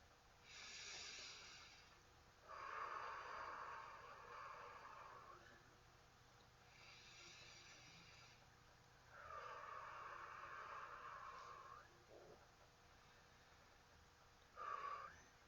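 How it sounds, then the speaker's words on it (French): Slow, deep breaths during a sophrology relaxation session, heard as soft airy inhales and exhales in a quiet room, three long breath cycles spaced several seconds apart, faint and close. "Je vais prendre 3 grandes respirations."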